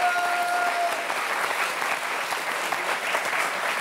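A French television studio audience applauding a mayor from Dijon, with dense, steady clapping that stays loud throughout and has a faint tone at the start.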